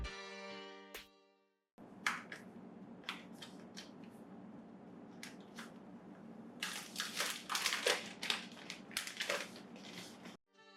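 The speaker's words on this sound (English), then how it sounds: "So quickly just unwrap it and let's check it out." A OnePlus Pad 3 tablet comes out of its packaging, with close crinkling, tearing and crunching of wrap and box material, quiet at first and then growing into denser bursts of rustling.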